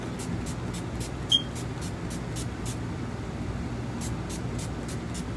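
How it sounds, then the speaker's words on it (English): A rapid series of short, soft hissing bursts of NYX Matte Finish makeup setting spray, followed after a pause by another quick run of sprays, close and steady. "I like to spray some NYX Matte Finish Spray on my face"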